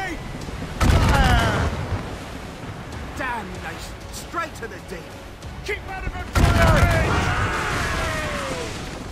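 Two heavy ship cannon blasts in the video game Assassin's Creed Rogue, a few seconds apart, each followed by a long rumbling roar, with shouting voices and scattered crackling effects between them.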